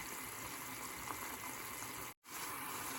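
Garlic simmers in a little liquid in a pan, a steady, soft bubbling hiss that continues throughout with one brief dropout near the end, no talking.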